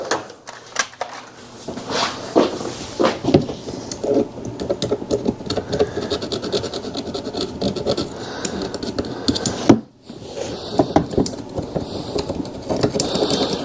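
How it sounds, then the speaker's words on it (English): A small pick scrapes and knocks debris off the brakes of a Yamaha Kodiak 450 ATV that sat for eight years, giving dense irregular scratching and ticking close up, with one brief pause. "Grab a little pick, knock some of that bigger stuff off."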